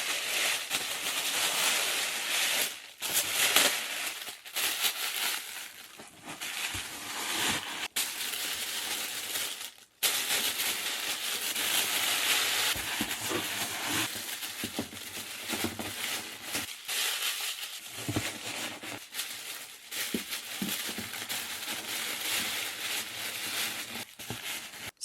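Ornaments wrapped in tissue paper while packing to move house, with steady papery crinkling and rustling throughout, broken by short pauses and soft handling knocks.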